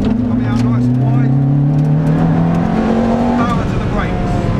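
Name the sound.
Ferrari F430 engine accelerating at full power on track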